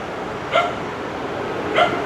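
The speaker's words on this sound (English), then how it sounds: "Cute doggo, keeping the street safe." A dog barking twice on a street at night along the Han River in Da Nang, two short sharp barks about a second apart over steady outdoor background noise, with no talking.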